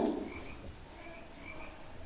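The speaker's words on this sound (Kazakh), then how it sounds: "бақаның дауысы" A frog croaks in a few short, faint, evenly spaced calls against a quiet background, with no voices.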